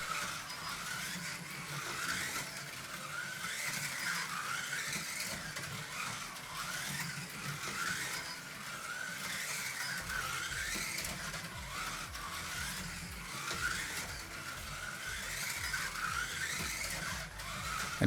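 A Revoslot Opel Kadett GT/E slot car whirs steadily around a track, a continuous high electric buzz with faint rattling, no voices, ending in a brief clunk.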